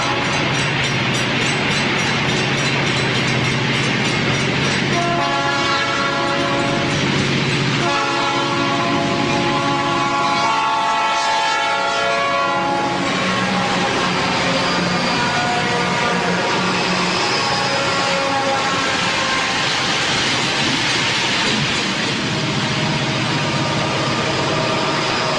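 A train rumbles steadily on the Cascade sub line in 1996, heading down the 1% grade toward Oak Ridge. Its horn sounds loud and sustained through the early part while the rolling roar continues throughout.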